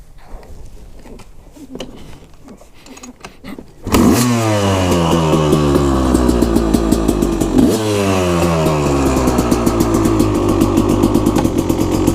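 After a few seconds of quiet clatter, a KTM two-stroke dirt bike engine fires up and keeps running with a loud, close, buzzing idle that rises briefly partway through.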